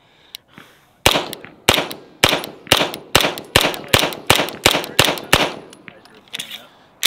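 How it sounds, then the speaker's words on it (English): Langdon Tactical M9A4 pistol shots: about fifteen loud, sharp, close reports fired in a steady, fairly quick rhythm, each with a short echoing tail, after a quieter click at the start. "we're gonna put a couple rounds down, and there we go"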